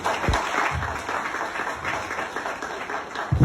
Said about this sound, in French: J'aimerais bien que vous l'applaudissiez.